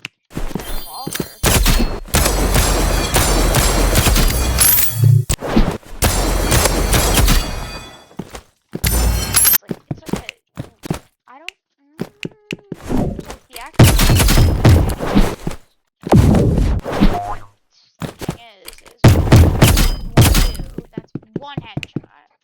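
Revolver gunfire in the Roblox game Rivals, loud sharp shots in bursts separated by short pauses across the clip, mixed with game sound effects.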